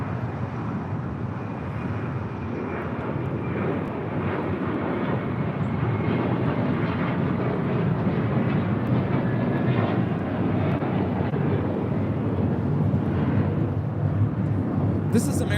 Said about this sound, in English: This is American Airlines Flight 4 taking off to JFK on an A321.